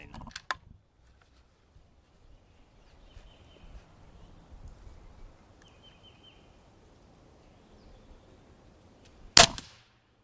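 An Umarex Origin 25 air rifle fires at a target, giving a sharp crack near the start and a louder, harder impact crack near the end, separated by a long quiet stretch with faint background noise.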